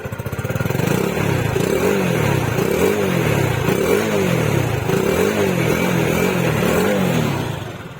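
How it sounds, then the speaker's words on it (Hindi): A Honda Pridor motorcycle (2021 model) idles steadily at close range, its low, rhythmic throb holding constant with slight periodic surges throughout. "तो इंजन साउंड सुन सकते हैं आप, कूल बाइक है ये"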